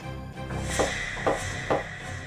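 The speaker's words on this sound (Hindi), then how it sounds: "चलिए अभी दरवाजा खटखटा लेते हैं।" Three evenly spaced knocks on a wooden door, moderately close, over a low background hum.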